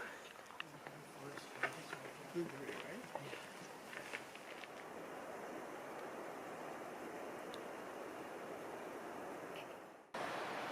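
A small mountain creek at Mount Rainier gives a faint, steady rushing babble from start to finish. A few soft rustles and footsteps sit on top, and there is a brief dropout near the end.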